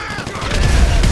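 A grenade blows up in the video game GTA V: a loud, sudden blast that swells into a deep rumbling boom with crackling debris, lasting about a second.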